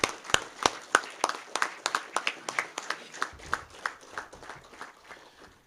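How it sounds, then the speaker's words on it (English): Audience applauding the dais at a Saurashtra cricket unveiling ceremony, a steady, rhythmic run of roughly twenty crisp, evenly spaced claps at moderate volume, fading slightly toward the end. "give a huge round of applause to the entire dais here"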